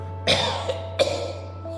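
Two sharp coughs about a second apart, close and fairly loud, over a steady low electrical hum.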